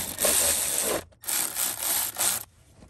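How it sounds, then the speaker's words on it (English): A Milwaukee ratchet with a 10 mm socket snugs bolts during spark plug work on a Toyota Tundra 2UZ-FE 4.7L V8, whirring in three close, loud bursts separated by brief pauses. "Now I'm just gonna get my Milwaukee ratchet with a 10 millimeter socket and cinch them up snug"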